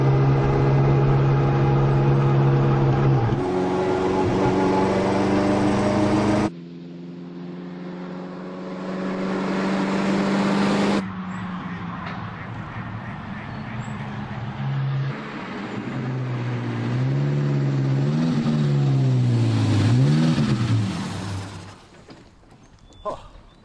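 Vintage Maserati Tipo 26 Grand Prix racing car driving, its engine a loud, steady drone that shifts through gears and rises and falls in pitch before fading at the end, with a voice talking over it.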